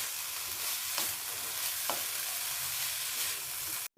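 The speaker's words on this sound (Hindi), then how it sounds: "1 मिनट मज़ीद इसको फ्राई करूँगी मैं।" Cumin seeds and dried coriander frying in a pan with a steady hiss and sizzle, a couple of soft stirring scrapes, close and continuous with no talk.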